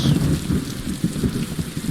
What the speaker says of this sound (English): Listen to that storm.